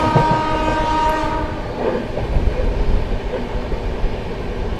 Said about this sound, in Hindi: सामने से आ रही है न्यू दिल्ली राजेंद्र नगर टर्मिनल संपूर्ण क्रांति एक्सप्रेस।